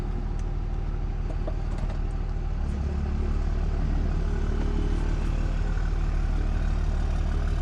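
A car engine idles and then pulls away at low speed, a steady low rumble that swells slightly, as the car is driven to check its brakes after a brake fluid change.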